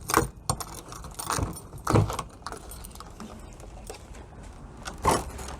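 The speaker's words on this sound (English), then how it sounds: "Normally the gold keys are the ones for the doors." Motorhome door keys jangle and clink in several bursts, close and fairly loud, with some scraping metal handling in between.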